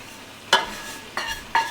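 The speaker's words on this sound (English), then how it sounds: "We'll add it to our curry pork, mix it well" Roasted coconut is stirred into a pork curry with Ceylon cinnamon, giving three distinct stirring scrapes over a soft simmering background, close and clear with no talking.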